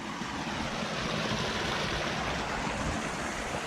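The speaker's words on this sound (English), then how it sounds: "Got the creek here" Creek water in Rocky Mountain National Park, on the trail toward Odessa Lake, rushing in a steady, dense broadband wash that holds constant throughout, close and fairly loud, with no voices.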